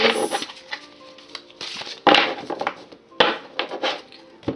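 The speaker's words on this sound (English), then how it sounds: "I'm going to shuffle these." Several crisp bursts of riffling paper cards from a small deck, each a quick flutter followed by pauses, close by with no talking.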